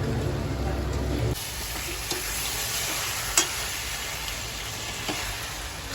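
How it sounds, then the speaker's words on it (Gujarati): Manchurian balls tumble into a pan of lemon-soured gravy and get stirred, with a soft sizzle and wet scraping that drops quieter after the first second, punctuated by a few small clicks of the spoon. "હવે ગ્રેવીમાં ગોટી નાખીએ છીએ।"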